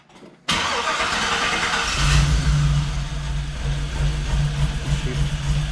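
A car engine fires up and settles into a steady, fairly smooth run with a slight miss, a loud close rumble and broadband roar that holds through to the end.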